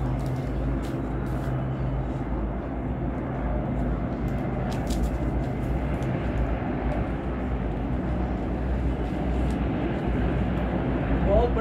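Many helicopters fly overhead, producing a continuous, loud, low rumbling drone that stays steady from start to finish.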